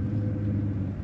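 A Mercedes S65 AMG with a V12 engine gives a deep, steady rumble as the gas pedal is pressed, a short low drone heard from inside the car.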